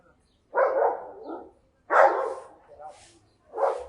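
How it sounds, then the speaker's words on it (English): Outdoors on a street in San Miguel de Allende, Mexico, dogs bark and snarl at each other in three loud, separate bursts, with some talking mixed in. "We've got some fighting dogs here."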